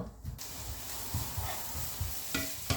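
Food stir-fried in a pan on a stove, a continuous close sizzle with regular scraping and clinking strokes of the utensil, no talking.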